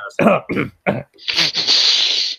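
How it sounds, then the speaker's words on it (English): A few short coughs followed by a longer, raspy throat-clearing hack, close and fairly loud. "Cough, cough."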